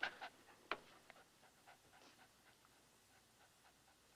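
A dog that has recently had pups and is full of milk pants in soft, quick, breathy bursts nearby, faint and steady with a couple of small scuffs.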